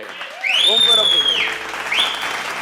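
Applause from a congregation at an evening church service swells into steady clapping, with high whistling or cheering tones rising above it and a voice heard at the start.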